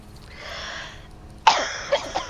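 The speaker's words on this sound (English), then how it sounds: "Sorry I coughed in your face." A sharp, close cough bursts out after a soft breathy stretch, followed by two smaller coughs trailing off, loud and near against a quiet background.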